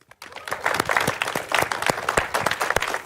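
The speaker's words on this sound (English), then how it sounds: "give Pastor Kayla a hand clap" A small group claps for a pastor during a church-style broadcast, a modest, fairly sparse patter of hand claps with distinct individual strikes, moderately close and rising after a brief quiet start.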